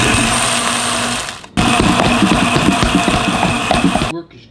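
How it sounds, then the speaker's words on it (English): A Vitamix blender with its dry container grinds parmesan in loud, whirring bursts, a brief pause near the middle, then a second grinding run that cuts off abruptly. "then I get to use my cool Vitamix, the dry one"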